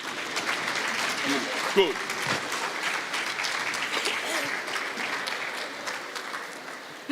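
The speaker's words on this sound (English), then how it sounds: "Can we stand up and give her a round of applause as she's coming here?" A conference audience claps in sustained, dense applause that carries steadily throughout, with a brief spoken word and a little crowd noise mixed in.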